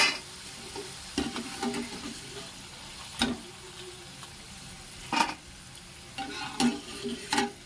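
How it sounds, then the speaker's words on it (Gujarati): Potato chips fry in hot oil with a steady low sizzle, broken by several sharp scraping clatters as the chips are stirred in the pan. "એ રીતના આપણે બધી બટેટાની ચિપ્સ તળી લેવાની છે।"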